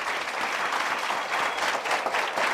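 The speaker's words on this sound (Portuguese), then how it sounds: "uma salva de palmas para ela, uma salva de palmas" A dense, steady wash of audience applause fills a podcast studio, many hands clapping together at constant loudness throughout with no voices over it.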